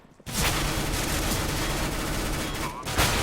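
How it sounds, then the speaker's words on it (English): P90 submachine gun fire in Counter-Strike: Global Offensive during a competitive match, a dense, rapid automatic burst sustained for about three seconds, loud and continuous, with a commentator speaking over it. "Mighty Max with a P90"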